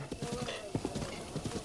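Hoof beats of horses in a Legend of Zelda game, a brisk, even clip-clop up close with a faint whinny, over a busy game background and some voice.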